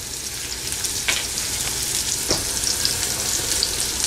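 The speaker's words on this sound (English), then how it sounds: "Now I'm going to fry our chopped red onion until they get a slightly brown color." Chopped red onion frying in hot oil for a Kerala chicken curry, a steady close sizzle with occasional soft pops and stirring clicks throughout.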